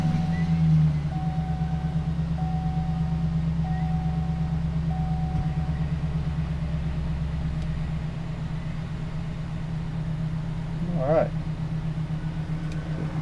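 A 2007-2011 GMC Sierra 1500 pickup, checked for an oil gauge problem, runs at a steady fast idle with a low, even engine hum close by, briefly dipping in level partway through.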